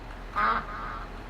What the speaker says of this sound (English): There's 180 ducks in that container.